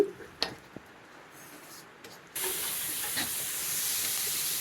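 Chopped onion goes into a hot pan for a bitter gourd dish, with a few soft taps first and then a sudden steady hiss that holds close and even to the end.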